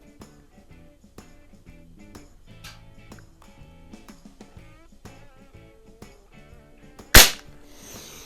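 Beeman AR2078 air rifle firing a wadcutter pellet: one sharp, loud crack near the end, with a quick decaying tail, after a stretch of soft background music.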